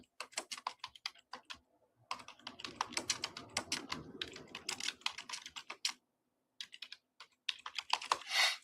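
Fingers type on a computer keyboard in quick, uneven bursts of close, crisp key clicks separated by short pauses, with no talking.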